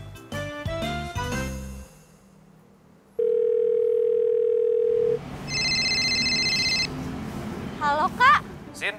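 Telephone sounds during a call: a quick run of dialing beeps and chimes, then a steady dial tone held for about two seconds, followed by ringing tones and further electronic jingles.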